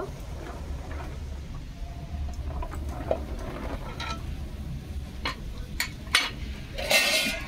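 A metal wok (karai) of sugar syrup for a sweet is lifted off a kitchen stove, with faint scrapes and light clinks of cookware over a low steady hum, and a brighter metallic clatter near the end.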